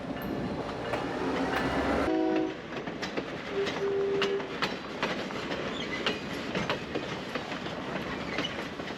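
Train passing at Aspen Crossing, opening with a sustained horn blast, then a steady broad rumble of rail cars rolling by with repeated clacking transients, fairly close and continuous with no talk.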